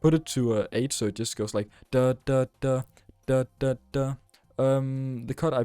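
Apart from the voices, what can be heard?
No distinct noise like a dog, phone or traffic.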